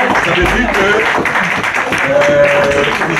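An audience gives a professor steady applause at a French-language academic talk, a dense, close wash of clapping that continues throughout with voices mixed in.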